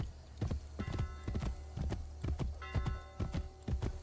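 Horse hooves clip-clop steadily in Assassin's Creed Brotherhood, a brisk regular rhythm of hoof strikes at close range over a continuous background hum with faint tonal game music.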